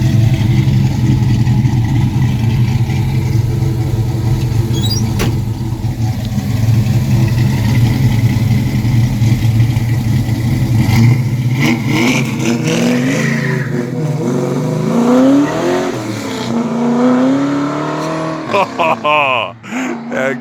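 A 1971 Ford XY GT Falcon replica, a K-Code car, burbles loudly at idle, then revs in several rising and falling bursts, close by and steady throughout.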